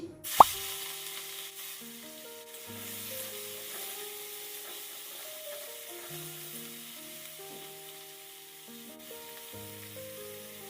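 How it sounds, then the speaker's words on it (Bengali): A sudden plop, then a soft, steady sizzle of prawns frying in mustard oil, with a gentle melodic tune playing quietly in the background. "তেলটা গরম হয়ে গিয়েছে, এবার আমি চিংড়ি মাছগুলো ভেজে নিচ্ছি।"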